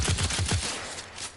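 Rapid-fire weapon in the video game Warframe: a quick burst of four or five punchy shots in steady succession, then a short decaying tail.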